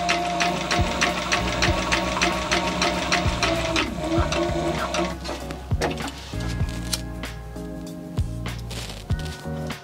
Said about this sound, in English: So over at the sewing machine, I'm going to put two pieces on, one for the front cover